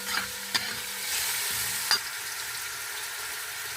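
Vegetables sizzle steadily as they are stirred and fried in a pan for Uzbek mastava soup, with two sharp utensil clacks against the pan standing out over the constant close frying hiss.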